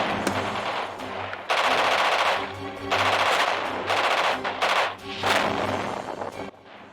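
Automatic gunfire rattles through a war video game, arriving in several loud, rapid bursts separated by brief lulls, with the sound of distant battle continuing underneath.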